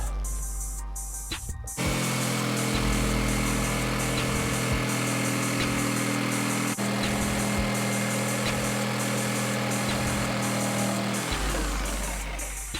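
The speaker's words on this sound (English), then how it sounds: "Now we're just going to cut with our jig saw." A jigsaw cuts through wood to form a handle on a 3-in-1 CrossFit plyo box, its motor starting after a short pause and running as a loud, steady close-up buzz for about ten seconds before stopping.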